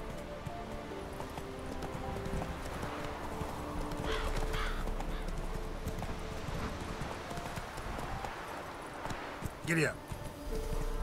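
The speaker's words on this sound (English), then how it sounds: "I'll get on the horse unless the command comes up." Rhythmic hoofbeats of a horse galloping in the video game The Witcher 3: Wild Hunt clip-clop steadily under quiet background sound, with a brief louder burst near the end.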